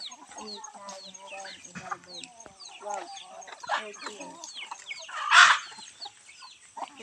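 A flock of Palawan native chickens clucks and chatters close by, with overlapping calls and one louder squawk partway through, while a person talks over them.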